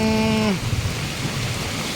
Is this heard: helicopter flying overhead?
no